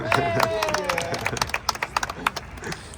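Brief scattered applause from a small group on a stadium tour at the Stade de France, a few sharp claps building into a short burst while someone talks over the start.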